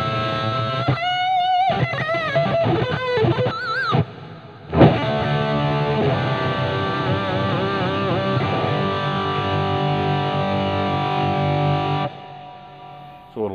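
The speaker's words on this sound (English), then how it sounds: "This is the Randall cranked up." Electric guitar from a JEM clone played through a cranked Randall amp, heavily distorted, with bent single-note lines giving way to a long sustained, singing chord that rings out close and loud before cutting off.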